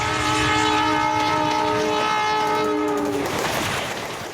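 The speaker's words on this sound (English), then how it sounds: "the super-fast express trains command the rails" Indian express train sounding a long, loud multi-tone horn for about three seconds over the rumble of the passing cars, then fading into rolling rail noise.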